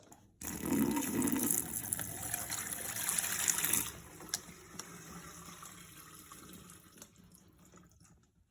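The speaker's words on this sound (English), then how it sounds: "So I'm just gonna pour some water in there and see if we have any leaks." Water is poured into a DIY outdoor camp urinal and runs down its drain. A loud splashing pour gives way to a softer trickle and drips before fading out.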